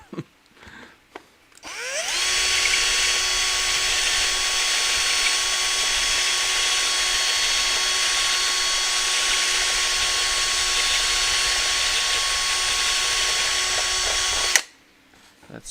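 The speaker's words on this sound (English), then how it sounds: "if you want to just drill a hole and put the rod in" A power drill drilling a hole in a model hover tank whirs steadily for about twelve seconds, a loud, continuous high-pitched motor whine with a faint click before it starts and after it stops.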